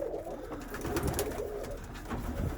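Domestic pigeons coo close up in a loft at morning feeding time, several low rolling calls overlapping amid wing and foot shuffling.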